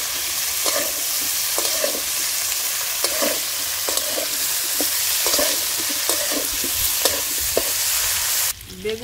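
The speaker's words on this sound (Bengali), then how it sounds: "বেগুন আলু একসাথে ভেজে নিয়েছি," Eggplant and potato frying in oil in a pan, a loud continuous sizzle with rhythmic stirring scrapes of a spoon recurring about every second, close up.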